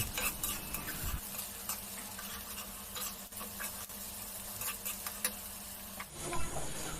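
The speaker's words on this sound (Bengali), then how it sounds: "নাড়ো নাড়ো, নাড়তে থাও, সুন্দর করে নাড়তে থাও" A steady sizzle of onions frying in a pan, with a utensil scraping and stirring now and then; no voices.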